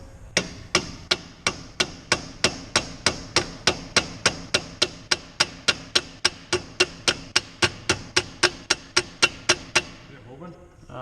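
Repeated hammer whacks on a squeegee handle pushed through a car part on a Mustang, roughly thirty sharp, evenly spaced metallic blows in a fast steady rhythm, loud and close, stopping abruptly at the end.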